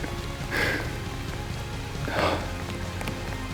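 Rain falling in an Alaska forest, a steady soft patter on leaves and ground with two brief louder rushes, no voices.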